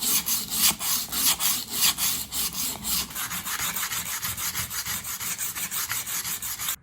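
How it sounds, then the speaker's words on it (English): Sandpaper of 80 to 120 grit rubs back and forth by hand along the wooden handle of a Hultafors 1.2 kg felling axe, in rhythmic, close, steady scratching strokes with no voices. "So I went from 80 grit to 120 grit, and that sort of feels almost smooth enough for me."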